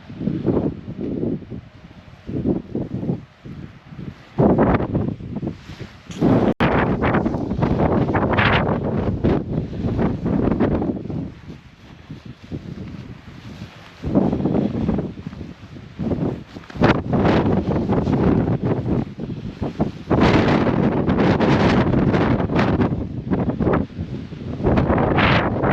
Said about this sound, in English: Wind's still kicking off, so let's go and have a look what it looks like outside